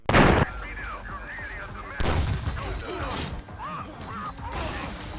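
Gunfire in the shooter video game La Quimera: a sharp loud shot opens, and another burst follows about two seconds later, with mechanical game effects clattering around the blasts.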